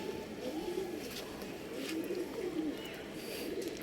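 A Sabja female pigeon coos in soft, low, repeated phrases at close range over a steady background hiss, with occasional faint chirps.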